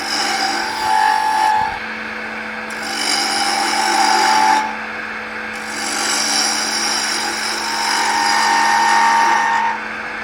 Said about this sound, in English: we're going to grab our 1/2 inch bowl gouge, and we're literally just going to start turning this into a cone.